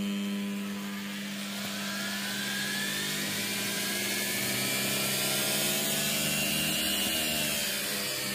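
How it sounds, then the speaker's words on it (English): An electric motor running from an 800-watt inverter gives off a steady, loud whining drone with layered tones that slowly rise and shift in pitch, heard alone without talk. "So as you can see, I use it to power the motor again."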